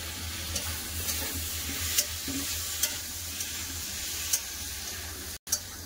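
Spiced prawn and potato mixture sizzles steadily in a hot pan while being stirred, a constant frying hiss punctuated by soft scraping strokes, close and alone without talk.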